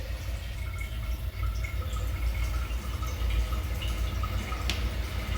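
Toilet tank refilling after its supply valve is opened, a steady hiss and trickle of running water, close and continuous, with no talking.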